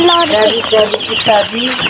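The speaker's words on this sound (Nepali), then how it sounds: "यो कस्तो चल्ला कराएको यो" Chicks cheep in a steady flurry of high, thin peeps, close by and continuous, with a voice speaking softly underneath.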